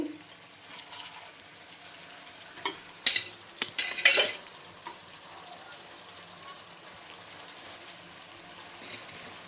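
Chicken frying in a pan with a low, steady sizzle, briefly interrupted by a few loud scraping stirs of a utensil near the middle, then settling back to a quiet hiss.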